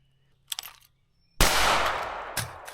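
Rapid pistol fire from a Beretta 92 Elite at a shooting range, a short pair of shots followed after a pause by a sustained loud burst of quick shots with a final sharp report.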